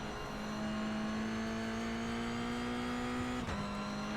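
A Mazda MX-5 race car in the iRacing sim on a wet-to-dry track at Oran Park South holds a steady, loud engine drone at near-constant pitch, with a brief dip near the end.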